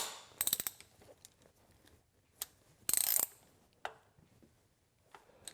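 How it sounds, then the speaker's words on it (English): A ratchet tightens a coil pack bolt on a 2008 Suzuki SX4, with two short bursts of rapid clicking and a few isolated metallic ticks in a quiet workspace. "And when it's snug, then tighten it down with the ratchet."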